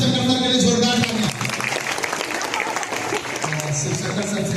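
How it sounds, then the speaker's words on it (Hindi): Students and staff at a school assembly applaud a teacher, many hands clapping steadily over a murmuring crowd, with loud voices heard at the start and again near the end. "तो शिव शंकर सर के लिए जोरदार तालियां"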